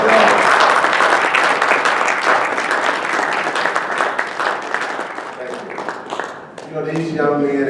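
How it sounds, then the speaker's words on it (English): A breakfast audience in Atlantic City gives cyber guardian trainees loud, dense applause that fills the room, slowly fading before a voice speaks near the end. "Give them a round of applause,"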